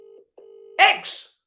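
Telephone keypad tones sound as someone dials a call: a few short steady beeps, then a louder burst of mixed tones, close and clear.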